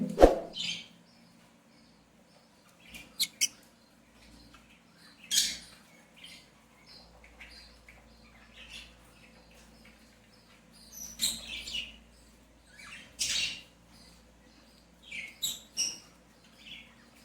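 Three baby birds nesting in a clay pot give thin, high chirps in scattered short bursts, close but faint, separated by quiet gaps.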